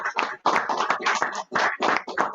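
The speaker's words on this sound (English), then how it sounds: "So let's have one more round of applause for everyone that's here and online." Audience applause at a cybersecurity event's final presentations: dense hand clapping in bursts with brief gaps, close and fairly loud, with no talk over it.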